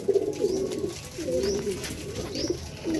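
Pigeons cooing during a morning feeding of chickpeas, millet, maize, wheat and mixed lentils, a steady series of low throaty coos repeating over soft background ambience, with faint higher chirps mixed in.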